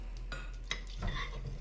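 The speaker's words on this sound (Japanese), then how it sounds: "かき混ぜます。" A grated ginger, kombu, sake and soy sauce mixture being stirred in a pot, with a few close scraping strokes over a low steady background hum.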